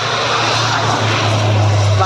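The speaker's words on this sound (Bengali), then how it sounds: "দেখতে পাচ্ছেন বিমানটি কিভাবে যাচ্ছে" A propeller airplane passes nearby with a loud, steady engine drone and a low tonal hum that holds for the whole two seconds. A voice talks faintly over it.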